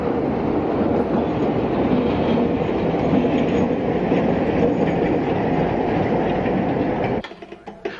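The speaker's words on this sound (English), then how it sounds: "How could we ever forget the interesting motive power, smoking and chugging about?" Train on Mexico's Pacifico Railroad rumbling past close and loud, a steady roar of wheels and cars that cuts off abruptly near the end, leaving faint scattered noise.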